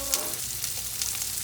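Ginger and onion sautéing in a pan for ginataang langka, a steady close sizzle with a brief louder crackle near the start and no talk.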